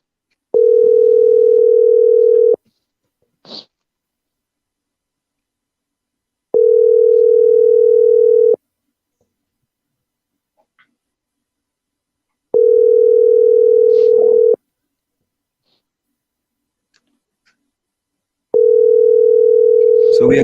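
A telephone call being placed plays a steady single-pitch line tone in four even two-second bursts, separated by about four seconds of quiet with faint clicks, loud and close with no talk over it.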